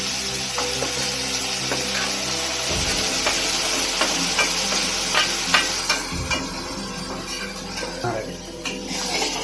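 Spice paste for a fish curry sizzles steadily in a hot pan, with stirring scrapes and light clinks of a utensil against the pan, and a voice heard now and then.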